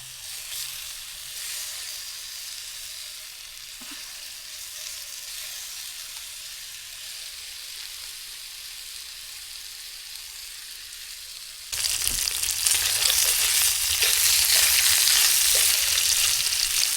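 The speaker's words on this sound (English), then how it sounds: "This is cooking nice now. We'll brown this up and get the eggs on. Okay guys, that's the bacon." Bacon sizzles and spits in a pan over a Trangia alcohol stove, a steady close frying hiss that suddenly jumps louder and brighter partway through, with no talk.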